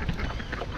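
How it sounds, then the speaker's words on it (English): Ducks at a botanic garden quack in a brief, loud burst close by, set against busy outdoor background noise. "here comes the ducks"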